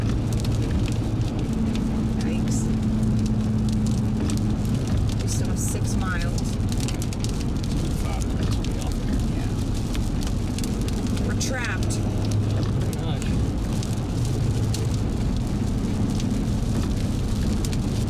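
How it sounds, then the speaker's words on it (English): Hail in a dark, gusty storm pelts a car as it drives, a dense continuous rattle and patter over road rumble and engine drone for the whole stretch, with the hum of the wipers. "Wow, that hail."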